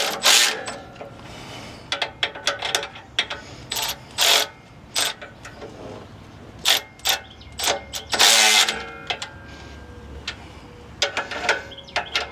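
A ratchet drives bolts down on a Dana 60 rear differential cover, loud close clicking bursts repeating in quick runs with short gaps between them.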